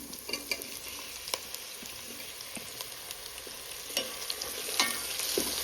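Tomato added to fish frying in a pan, a soft, fairly quiet sizzle with scattered utensil scrapes and taps spread unevenly throughout, close by and without talk.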